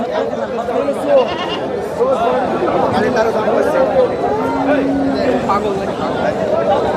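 Goats bleat in short bursts at a crowded goat market selling animals before the Eid sacrifice, amid constant chatter and a dense murmur of people talking nearby.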